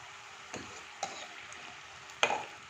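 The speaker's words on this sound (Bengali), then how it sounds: "এইভাবে করে লাল লাল করে ভেজে নিতে হবে।" Methi nimki dough pieces frying in oil until reddish, a soft sizzle under a few sharp clinks and taps of a utensil against the pan, close and without talk.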